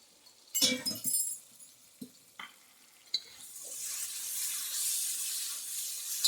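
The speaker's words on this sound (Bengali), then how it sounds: "একটু জল দিয়ে দিলাম, তার কারণ হচ্ছে মশলাটা পুড়ে যাবে" Water added to a pan of ground chili and cumin paste, with a few sharp clatters of utensils, then a rising, continuous sizzle and hiss as the liquid hits the hot spice paste.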